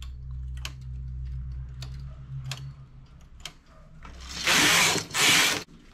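A knitting machine carriage working rows of a tip-top piece, with scattered light ticks and clicks over a low hum, then two loud rushing sweeps of the carriage near the end.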